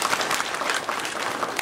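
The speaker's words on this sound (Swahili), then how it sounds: "Tuwapigie makofi tafadhali." A crowd at a public gathering breaks into brief, steady applause, dense clapping from many hands at moderate distance with no voices over it.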